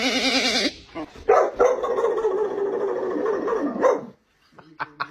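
A dog barks in a short burst of sharp, close barks that trail into a few quieter yips, after an earlier wavering sound and with brief pauses between.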